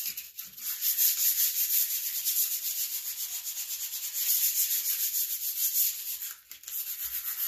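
Sanding on the 54-inch deck of a John Deere Z445 zero-turn lawn mower, a steady, close, hissing scrape that keeps up in long continuous strokes with only brief pauses and no talking.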